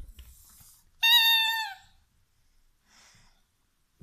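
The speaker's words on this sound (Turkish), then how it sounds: "Kedi misin sen? Kediymiş bu." A single clear meow from a cat, bright and harmonic, follows a soft rustle, with quiet handling noises and a faint later sound in an otherwise still room.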